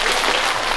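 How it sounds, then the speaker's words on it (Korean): A church congregation bursts into loud, dense clapping to welcome a pastor to the pulpit during a Korean Full Gospel service, a steady, close wash of hands with no talking. "나오실 때 박수로 환영해 주시기 바랍니다"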